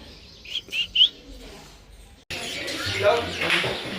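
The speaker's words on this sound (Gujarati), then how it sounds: "લિયોનું ધ્યાન તો ચકલીમાં જ છે" A sparrow chirps in a few quick high bursts near the start, followed by a louder stretch of indoor noise and people talking.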